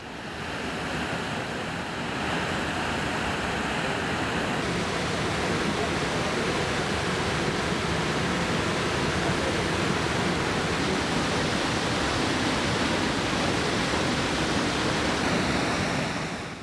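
A powerful waterfall in Alaska where salmon leap upstream, roaring as a dense, steady rush of falling water that stays loud and unbroken throughout, with no voices over it.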